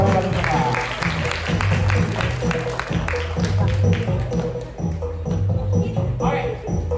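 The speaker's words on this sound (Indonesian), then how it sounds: "Kasih tepuk tangan untuk Mas ya." Applause from a theatre audience greeting a performer at a staged creative-process show, steady dense clapping sustained for several seconds with music or voices mixed underneath.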